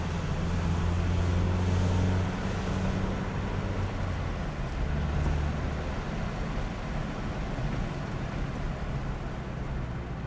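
A 2001 Nissan Silvia S15 Spec S L Package drives smoothly, its steady engine and road rumble heard from inside the cabin with some wind noise, loud and continuous, with no talking.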